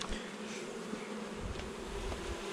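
Honeybees buzz steadily around an opened hive box during colony work, a dense, continuous hum close by with no talk.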